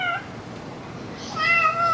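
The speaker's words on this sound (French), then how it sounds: "Oh, il y a un chaton. Petit chat." A small kitten mews twice: a short high cry at the start, then a longer, louder wavering meow after a quiet gap, heard at close range over faint background noise.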